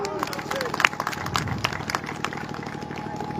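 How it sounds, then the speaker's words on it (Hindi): An audience at a political speech claps in scattered, uneven bursts over a background of crowd noise and voices, the claps fairly distant and loose in rhythm. "ताली।"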